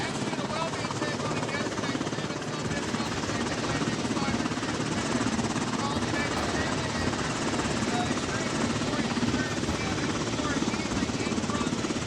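A Coast Guard helicopter on an Alaska rescue mission roars loudly and continuously, its dense rotor and turbine noise filling the whole span with no break.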